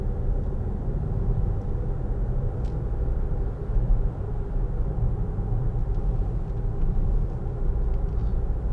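A 2013 Land Rover Freelander 2 SD4 diesel heard from inside the cabin while driving, a steady low engine and road rumble holding constant throughout with no talking.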